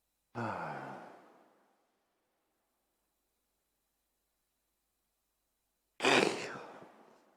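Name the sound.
yawn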